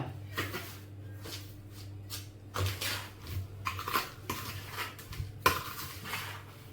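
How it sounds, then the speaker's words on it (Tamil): Dishes clink close by while sugar is stirred into semolina (rava) in a pot for homemade kesari halwa, a spoon knocking and scraping the vessel in irregular bursts with a steady low hum underneath. "இப்போது சர்க்கரை இது ஒன்றா மிக்ஸ் பண்ணிடுறேன்"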